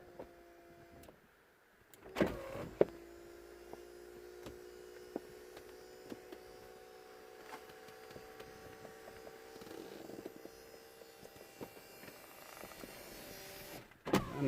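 Audi TT Roadster convertible roof closing with its hydraulic pump running, a steady electric whine and hum with a few mechanical clunks at the start, stopping abruptly near the end.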